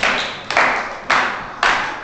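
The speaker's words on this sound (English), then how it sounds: "we like to clap our hands" Four sharp hand claps spaced about half a second apart, loud and close, in a children's pirate sing-along, each with a short ringing decay and no talking.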